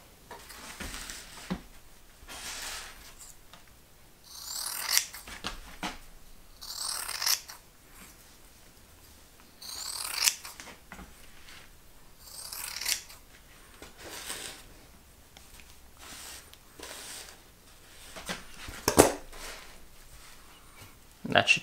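Scissors snip relief cuts into fiberglass cloth for laminating an XPS foam surfboard bottom, heard as several short clustered bursts of cutting spread through the clip, close and fairly quiet, with pauses between groups.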